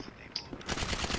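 A Combat PDW submachine gun fires in GTA V as a quick, dense burst of rapid shots that starts halfway through and runs to the end, following a few faint sounds.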